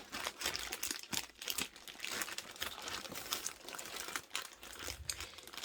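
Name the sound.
unboxing Samsung Galaxy S22 Ultra packaging with kitchen scissors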